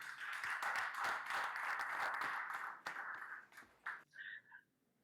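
A crowd cheers and applauds as UDPS party elders are invited to speak at a gathering. Loud, sustained clapping and shouting fade into scattered claps, and a voice briefly rises at the end.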